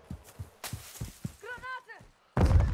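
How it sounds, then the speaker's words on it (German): A grenade explodes in the multiplayer shooter Call of Duty: Modern Warfare II. First come scattered thuds and a short tonal sound, then a loud, broadband blast bursts in near the end and lasts until the clip stops. "Werfe Hassgranate."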